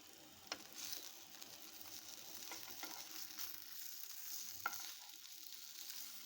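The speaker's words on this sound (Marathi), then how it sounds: "त्या साईडने पण आपल्याला हे तीन चार मिनटं शालो फ्राय करून घ्यायचे आहे" Poha cutlets shallow-fry in oil in a pan, producing a soft, even sizzle with occasional light pops and utensil taps, quiet and heard alone.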